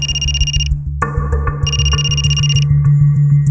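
A telephone rings in a tense crime-drama scene, its electronic ringtone repeating in two bursts of bright warbling tones, close and loud over a steady low background hum and music, with no talking.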